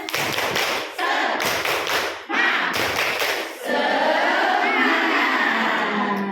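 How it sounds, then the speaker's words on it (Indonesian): An audience at a parenting session about children's readiness for the new school year claps the 'tepuk semangat' chant, loud rhythmic clapping in quick patterned bursts with short pauses, then a voice talks over the lingering room noise. "kita tepuk semangat lagi. Tepuk semangat."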